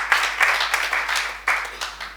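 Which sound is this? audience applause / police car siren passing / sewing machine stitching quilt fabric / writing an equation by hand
audience applause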